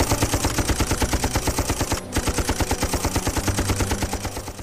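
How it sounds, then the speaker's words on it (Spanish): Maxim machine guns fire in a rapid, even stream of loud bursts, with a brief gap before the firing resumes just as fast. "Las ametralladoras Maxim de Rhodes iban segando una y otra vez a los Matabele que avanzaban."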